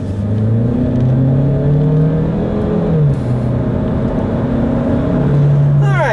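A 2016 Chevrolet Malibu's 1.5-liter turbocharged engine drones steadily and loudly, its pitch climbing as it accelerates, then dropping at a gear change before rising again.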